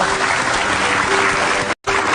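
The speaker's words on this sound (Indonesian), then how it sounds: "Kita kasih tepuk tangan dulu buat mereka berdua." A crowd applauds with dense, steady clapping that continues throughout, broken only by a brief cut near the end.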